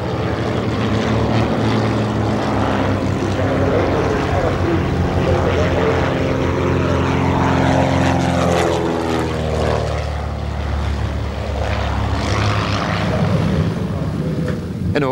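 Fokker propeller aircraft in flight at the Eindhoven air display, a loud continuous engine drone and propeller roar that swells and shifts in pitch as it passes, filling the whole stretch.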